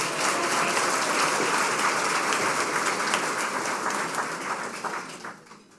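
Sustained audience applause at a women's hall of fame gala, loud and dense across the room, gradually thinning and fading out toward the end.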